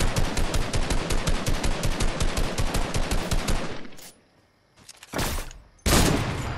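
Rapid automatic gunfire in a video game, a loud close burst of evenly spaced shots for several seconds, then a brief lull and two more short bursts.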